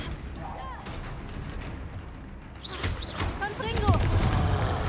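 A Confringo fire spell in Hogwarts Legacy bursts with a loud booming blast, followed by swelling rumbling impacts and magical whooshes during a fight against a troll.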